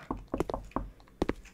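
A door is knocked on in a horror video game: an irregular series of dull, hollow thuds in two quick clusters, moderately loud and close, no talk.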